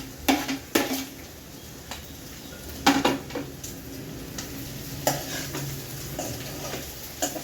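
Eggs fry in a pan while a utensil stirs and scrapes, giving sharp clinks against the metal at irregular intervals over a continuous sizzle, close and fairly loud.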